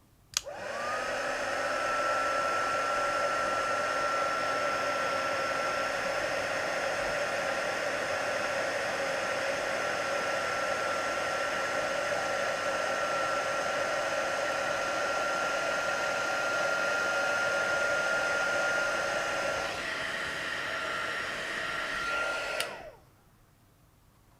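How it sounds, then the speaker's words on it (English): Electric heat tool for embossing on a handmade Christmas card, switched on and blowing steadily with a loud, even whine and rush of air for about twenty seconds, then cut off abruptly. "So I'm just gonna get the heat tool. I'm gonna switch it on now."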